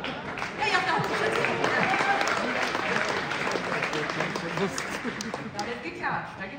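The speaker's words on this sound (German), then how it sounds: "Da wird geklatscht" Audience at a comedy show in Hamburg breaks into sustained applause, a dense even clatter of many hands lasting several seconds, with some crowd voices mixed in.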